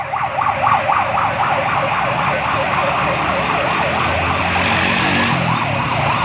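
A police and Rangers convoy passes along Empire Road during a flag march in Mirpurkhas, its wailing siren sweeping up and down steadily and loudly over continuous traffic rumble.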